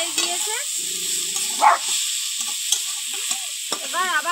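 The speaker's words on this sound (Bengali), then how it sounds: "এর মধ্যে ভেজে রাখা চিংড়ি মাছগুলো দিয়ে দেবো।" Previously fried prawns go into a pan where potatoes and eggplant are cooking for a Bengali gima shak chachchari, giving a soft sizzle with stirring scrapes, a brief louder clatter midway and short voice-like sounds.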